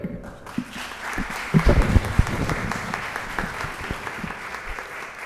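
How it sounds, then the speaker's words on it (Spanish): An audience at a lecture hall talk applauds the speaker. The clapping is lively, with clear individual claps near the microphone, and it swells in the middle before settling into steady applause. "Perfecto, un aplauso para él."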